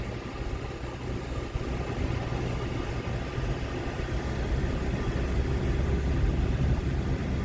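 A car driving along roads into a rural town, a steady engine hum and road noise that swells slightly toward the end, with no talking.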